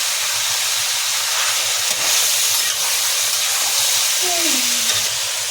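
Whole spices and about twenty black peppercorns fry in a pan for butter chicken, a loud steady hiss and sizzle throughout with a faint voice briefly underneath.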